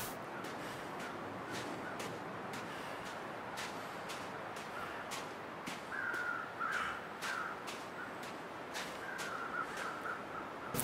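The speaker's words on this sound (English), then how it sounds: "noisy, chattery birds." Crows caw repeatedly in The Long Dark, sharp harsh calls at an irregular rhythm over a steady wind-like background noise, moderately distant and fairly faint, with no talk.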